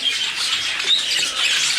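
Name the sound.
chick peeping from inside its shell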